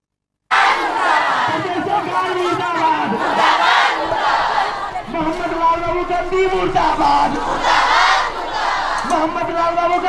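A protest procession crowd in a city street chants loudly and rhythmically in unison, voices rising and falling together in repeated slogans, close and sustained throughout.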